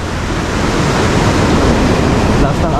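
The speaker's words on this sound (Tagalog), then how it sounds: "Lakas ng alon." Strong ocean waves surging and washing on a beach at low tide in Dingalan, a loud continuous roar of surf with wind buffeting the microphone throughout.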